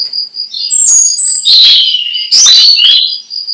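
A whistled imitation of a European robin song by a puppetry performer: several short, varied warbling phrases with brief pauses, clear and close, with a faint high drone behind.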